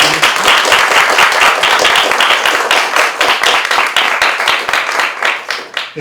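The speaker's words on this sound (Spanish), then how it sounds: "Un aplauso para él" Loud, close applause from a group at an editorial project presentation, with distinct individual claps standing out in a steady rapid patter that continues throughout.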